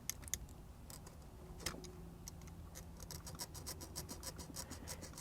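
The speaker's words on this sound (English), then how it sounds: "I'm going to cut one of these center loops because we can't use it anyway" Blade cutting through the stitching of a loop on a GM accessory cargo bed divider net for a Chevy Avalanche, heard as quiet rhythmic scratching and rasping snips, close and faint, picking up into a quicker run of cuts near the end.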